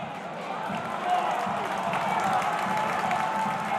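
A home football crowd at a Championship match between Wrexham and Middlesbrough sends up a steady wash of applause and cheering, broad and fairly distant, under faint commentary.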